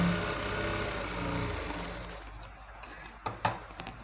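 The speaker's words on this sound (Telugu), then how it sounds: "నేను అన్ని జాయింటింగ్స్ని డబుల్ స్టిచ్ వేస్తున్నాను." A sewing machine double-stitches the joints of a cotton petticoat, a steady close mechanical whirr that slows and fades, ending in a few short clicks and clunks.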